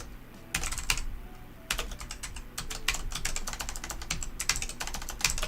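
Bursts of rapid typing on a computer keyboard, keys clicking in quick irregular runs with brief pauses between, close and fairly quiet.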